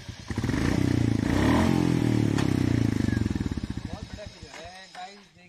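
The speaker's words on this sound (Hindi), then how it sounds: "अब गाड़ी स्टार्ट हो जाएगी स्टैंड लग चुका है।" A Royal Enfield Bullet 350 Classic motorcycle engine starts with the side stand raised, roaring loudly up to a steady thumping idle before the sound tapers off.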